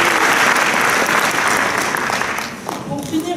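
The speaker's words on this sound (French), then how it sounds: "je vais vous demander aussi un tonnerre d'applaudissements pour vous" Applause from an audience at a community talk on communication and living together: dense clapping that holds loud, then thins slightly near the end as a voice begins to speak over it.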